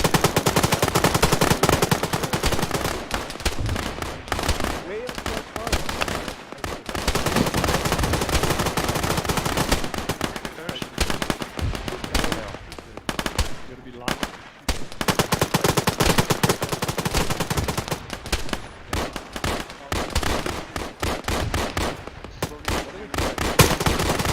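Sustained gunfire in the military simulation game Arma 3, with dense bursts of automatic and rifle fire rattling almost without pause, loud and close, briefly thinning out before resuming.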